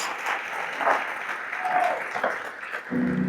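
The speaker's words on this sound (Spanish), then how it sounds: "Aplauda al Rey." A church congregation applauding during a Spanish-language sermon, a dense wash of clapping at moderate level, with voices mixed in and a brief dip near the end.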